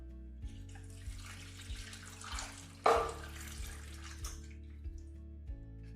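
Gravy pours into a crock pot in a steady, close liquid stream for several seconds, with a brief clunk partway through over a low background hum.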